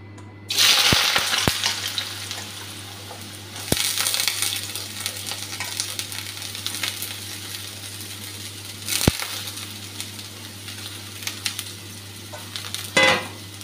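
Potatoes frying in a pan make a close, steady sizzle, punctuated by sharp metallic clinks and taps of a utensil against the pan and a louder stirring burst near the end.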